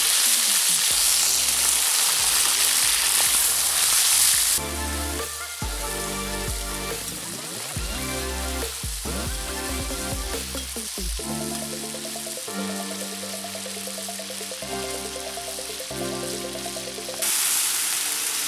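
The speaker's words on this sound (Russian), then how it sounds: "Поджарили мы мясо" Meat frying in a pan for mastava, an Uzbek soup: a loud, dense sizzle that starts and ends strong and runs beneath a steady rhythmic musical backing through the middle.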